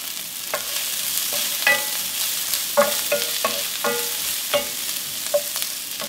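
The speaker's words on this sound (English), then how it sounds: "I'm going to give that a little stir." Chopped garlic stirred in a pot of vegan white chili, a moderate sizzle with a series of clinking spoon strikes against the metal, close and without talk.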